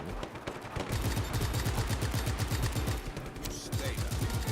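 Rapid bursts of automatic gunfire in Just Cause 3, loud and sustained across the whole stretch, layered shots crackling close by with a dense rumbling low end and no let-up.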